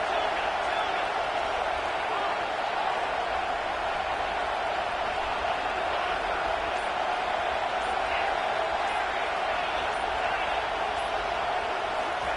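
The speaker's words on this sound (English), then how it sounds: "Listen to this crowd just shaking the girders of this place," Loud, dense crowd roar from a packed college football stadium, a steady unbroken wall of cheering and noise rising as the home fans urge on their defense, with no clear breaks across the whole stretch.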